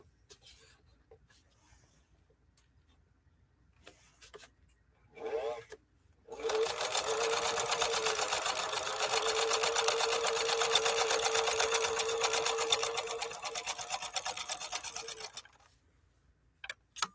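A 1957 Phoenix 283F sewing machine, German-engineered by Adler, stitches a zigzag in one steady, close mechanical whir lasting about nine seconds, with a few brief clicks and handling noises before and after.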